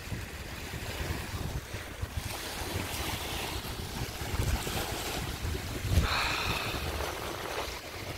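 Waves wash in continuously at a hot summer beach, a broad rushing roar mixed with heavy wind buffeting the microphone, steady throughout with a brief louder gust near the end.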